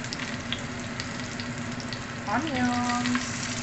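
Onions frying in light olive oil give a continuous, close sizzle that brightens and grows a little louder as more pieces go into the pan, with brief stirring scrapes.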